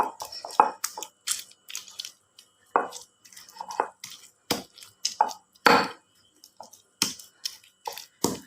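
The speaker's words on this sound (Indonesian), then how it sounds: "Sudah, kita giling." Small tomatoes and chilies are ground by hand for sambal, giving a string of wet, squishy crushing strikes at an irregular rhythm, close and moderately loud, with no talking.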